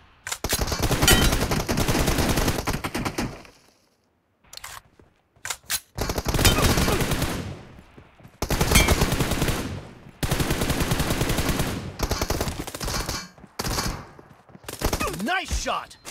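Gunfire in a mobile shooter game team deathmatch: rapid automatic bursts, loud and close, separated by short silences, with a few single shots and clicks between volleys.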